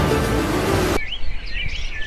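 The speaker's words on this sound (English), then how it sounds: "6. Toucan." A toucan calls in nature documentary footage: a second of loud, dense rushing noise cuts off abruptly, then bright, sliding chirps and calls repeat at a moderate distance over a quiet background.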